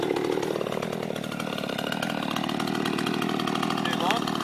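Chainsaw trimming branches off wooden fence posts cut in bushland: a close, continuous buzzing engine whine with pitch shifting as it bites into wood, steady throughout, with a voice faintly under it.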